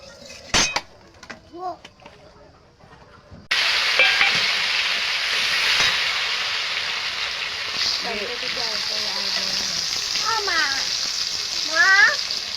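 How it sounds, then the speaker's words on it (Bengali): Chopped tomato fries in oil in a kadai with a steady, close sizzle that starts suddenly and holds throughout, with a few brief chirping tones over it. "টমেটো কুচিটা দিয়েছি, এবার ভেজে নেবো একটুখানি।"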